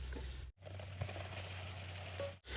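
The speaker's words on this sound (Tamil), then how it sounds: "இப்போ தக்காளி போட்டுக்கலாம்" Tomatoes dropped into onion and ginger-garlic paste frying for chicken dum biryani, giving a soft sizzle with a low hum beneath and brief gaps between bursts.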